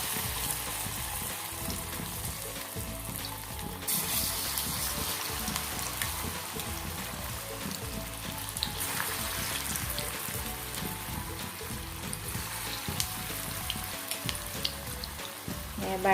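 Spoonfuls of banana flower pakora batter frying in hot oil, a continuous crackling sizzle that swells as more batter goes in, with no talking.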